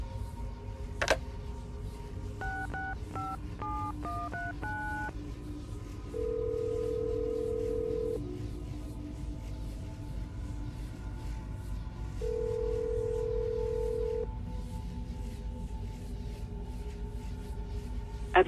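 A telephone is dialed in Assassin's Creed Brotherhood: a quick run of short keypad tones, then two long, steady ringing tones separated by a pause, all over a low ambient hum.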